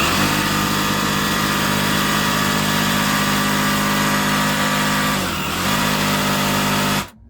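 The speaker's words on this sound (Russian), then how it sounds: "режим сверления, перфорация по максимуму" A 36V 6Ah cordless rotary hammer drill runs in hammer mode at full speed with a loud, steady whirring drone for about seven seconds, then cuts off abruptly.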